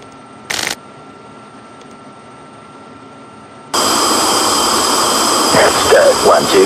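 A jet aircraft in the Falcon BMS flight simulator spools up for takeoff, a short click early on, then a sudden loud, steady roaring whine that swells near the end.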